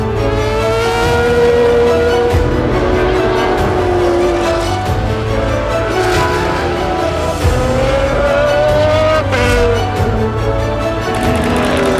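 Rotary-powered Mazda RX-7 race cars run on a track, their engines buzzing high and raspy with rising and falling pitch as they accelerate and shift, loud and continuous throughout.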